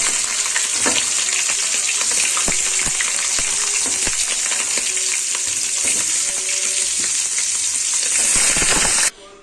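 Meat sizzles loudly in hot corn oil with bay leaf, cardamom and mastic, a dense continuous hiss broken by scattered pops and stirring clinks, stopping abruptly at the end.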